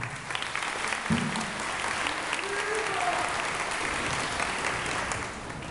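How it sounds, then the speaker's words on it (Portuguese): A congregation gives a round of applause to welcome a speaker at a church gathering, dense continuous clapping from a sizeable crowd that holds steady from start to finish. "vamos acolhê-lo com a salva de palmas"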